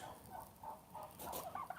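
A male turkey, puffed up in display near the hens, gives faint gobbling calls in a farm flock. The calls come as short wavering bursts set a little distance away.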